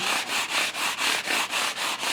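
A sanding sponge rubbed briskly back and forth on a guitar's wood, about nine even rasping strokes in a steady rhythm, close up.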